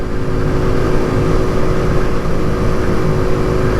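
A 2024 Kawasaki Z125 motorcycle engine drones at steady revs while cruising at 45 mph, loud and constant, with wind rumble underneath.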